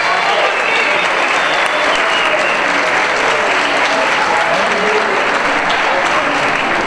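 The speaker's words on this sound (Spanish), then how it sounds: "reciba esta ovación." Loud, continuous ovation for the captain of CD Leganés football club at a kit launch event, a thick, unbroken crowd clapping that stays at full level throughout.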